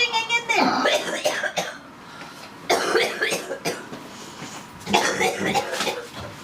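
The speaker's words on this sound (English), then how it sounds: "Work through the cough." A person coughs hard in three forceful bursts spaced a couple of seconds apart during a breathing exercise, each cough rough and close.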